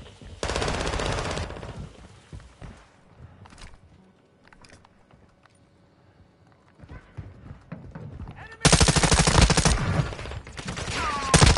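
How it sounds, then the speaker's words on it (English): Machine gun fire in Call of Duty MW2, dense rapid bursts at the start and a loud sustained fusillade in the final seconds, with quieter scattered shots and game noise between. "We're shooting all the corpses."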